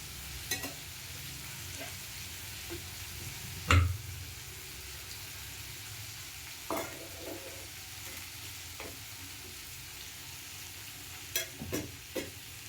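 Okra fries in oil in a pan on a low flame with a soft, continuous sizzle, broken by a few sharp spoon knocks and scrapes as it is stirred.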